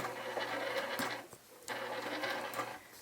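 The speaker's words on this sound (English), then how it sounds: "I'm going to sew slowly, one stitch at a time" A sewing machine stitches slowly while piecing a Y-seam in foundation paper piecing, a steady close mechanical whir that pauses briefly partway through before resuming.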